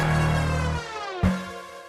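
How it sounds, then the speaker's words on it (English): A synth lead passes through an Effectrix tape stop set to a really slow speed, its pitch sliding downward as it winds down, then a brief restart that fades away. "Then I put down an effectrix with this tape stop, it's on a really slow speed,"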